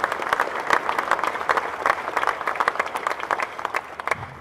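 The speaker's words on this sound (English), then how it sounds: "So please give the donors and the volunteers a round of applause." A crowd at Ohio Stadium applauds donors and volunteers at a statue unveiling, with steady, dense clapping that continues evenly throughout at a moderate distance.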